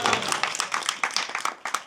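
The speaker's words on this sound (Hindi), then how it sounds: "आप बजाओ तालियां सब लोग" An audience at a devotional Hindi religious discourse claps along in a steady, fairly even rhythm of closely spaced hand claps, moderately loud and continuous throughout.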